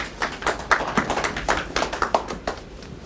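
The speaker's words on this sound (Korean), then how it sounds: "박수 부탁드립니다." Scattered applause at an urban community forum, a modest group clapping unevenly with distinct individual hand claps at close range, lasting a few seconds.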